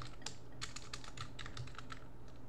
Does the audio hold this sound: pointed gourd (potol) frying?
no